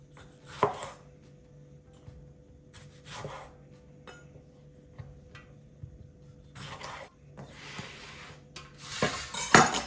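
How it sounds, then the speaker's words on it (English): A knife chopping six tomatoes in half on a tray, several sharp cutting knocks spaced irregularly with clinks of metal against the tray, close and fairly quiet. "I've got 6 tomatoes, just going to chop them in half."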